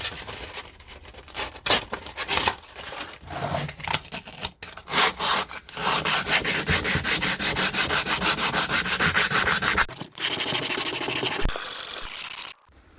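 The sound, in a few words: sanding carbon fibre car part with 120 grit sandpaper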